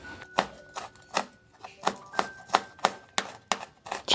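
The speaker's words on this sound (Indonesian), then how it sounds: "Saya geprek untuk bawang putihnya dan saya cincang kasar." A knife coarsely chops crushed garlic cloves on a board with a brisk run of sharp, separate taps, fairly quiet and close, with no voice.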